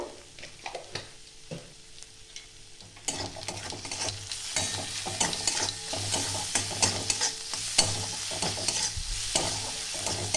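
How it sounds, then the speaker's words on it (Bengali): Spice masala with salt and turmeric frying in a pan for aloo chop filling, a soft sizzle at first that turns louder and denser partway through, with repeated close stirring and scraping of a spatula. "আর একটু নাড়িয়ে চাড়িয়ে নেবো আমি। মশলাটা আমার কষানো হয়ে গেছে"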